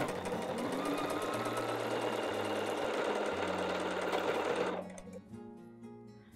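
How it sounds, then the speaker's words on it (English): A sewing machine stitches the seams of a fabric and batting bowl cozy, its steady rapid whirring running loud and close for nearly five seconds before stopping abruptly into quiet. "let's go ahead and just go to our machine, and we'll sew these 2 sides"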